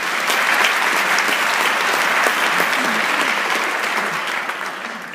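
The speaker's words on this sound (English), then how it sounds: "Give yourself a round of applause." A large audience at an empowerment congress summit applauds with dense, sustained clapping that stays loud and steady throughout, then begins to fade near the end.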